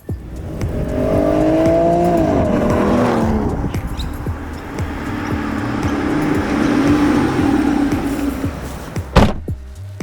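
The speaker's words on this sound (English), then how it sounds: "let's get in the car and take this thing for a drive" An Aston Martin Rapide S car drives along, its engine note rising and settling as it accelerates, with loud tire and road noise throughout and a sharp knock near the end.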